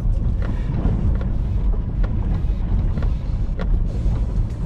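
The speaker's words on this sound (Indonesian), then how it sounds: "Suara air di bawah sini." An electric car fords deep floodwater in Indonesia, with water rushing and sloshing steadily beneath the floor as a continuous low churning rumble heard from inside the cabin.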